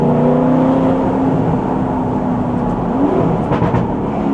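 An Alfa Romeo 8C's V8 engine drones loud and steady while driving, a constant close rumble that stays strong throughout with no talk over it.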